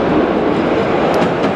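A train passes close by as a loud, steady broadband roar that holds at even strength for the whole moment, with no voices over it.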